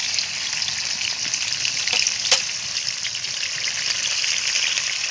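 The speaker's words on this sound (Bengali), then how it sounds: "তেলটা গরম হয়ে গেছে এবার আমি মশলাটা দিয়ে দেবো" Ground spice paste of ginger, garlic, cumin, dried chilli and onion fries in hot oil in a pan on a clay stove, making a dense, even, close sizzle with a sharp spatter near the middle and no talk.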